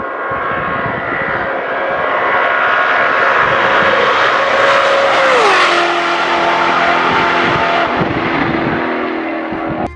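A supercharged 6.2-liter LS9 V8 in a 2009 Chevrolet Corvette C6 ZR1 roars loud and steady in Need for Speed, its engine pitch climbing then dropping sharply as it shifts, with no voices.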